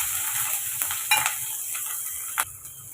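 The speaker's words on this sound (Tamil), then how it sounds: "சேர்த்துட்டு இப்போ அதை வதக்கி விட்டுருங்க" Whole spices, a chilli and onion sauté in hot oil, a soft sizzle broken by a few sharp scraping stirs of a spoon against the pan.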